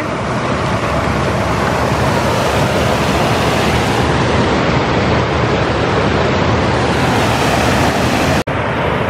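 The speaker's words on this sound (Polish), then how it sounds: "Przyszliśmy sobie na potoczek." Constant broadband rushing of a flowing mountain stream fills the clip, loud and close, with no voices and a brief dropout near the end.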